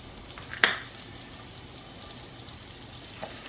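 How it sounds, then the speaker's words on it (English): Butter sizzles softly in a pan as onion goes in to caramelize for a Palermo sfincione pizza, a low steady hiss with one sharp clack near the start. "we're going to caramelize some onion. A bit of butter."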